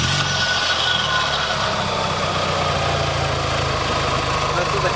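A 2000 Mitsubishi Eclipse engine idles with its stock air box, a steady, close, mid-pitched rumbling drone that holds even throughout.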